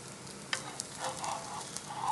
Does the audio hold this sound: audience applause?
no